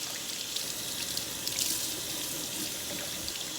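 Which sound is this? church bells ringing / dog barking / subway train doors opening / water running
water running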